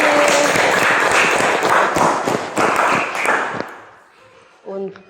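Classmates clap for Dani after a group presentation in a classroom, a loud burst of clapping that fades out over a few seconds, with brief voices and clatter at the end.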